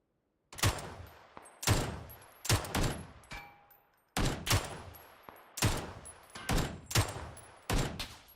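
AK rifle gunfire in the console shooter PUBG, a series of about eight sharp, fairly loud bursts of shots spaced roughly a second apart, with brief quiet between them.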